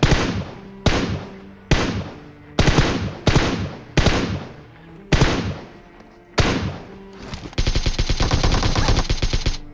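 Automatic gunfire in PUBG Mobile, loud repeated bursts with short pauses between them, then a sustained rapid stream of shots at the end, with no talk over it.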